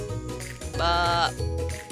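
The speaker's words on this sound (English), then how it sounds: "Sheep." A sheep bleats once in a wavering, nasal cry lasting about half a second, fairly close and clear, with quieter sounds around it.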